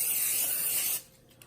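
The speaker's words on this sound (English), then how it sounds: "you're gonna spray a little bit of non-stick spray into it" Non-stick cooking spray hissing from an aerosol can into a mini muffin pan, one steady bright spray lasting about a second before cutting off to near silence.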